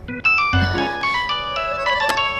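A phone ringtone sounds in a family drama scene, a bright, melodic electronic tune with repeating chiming notes that plays clearly and alone, without talk.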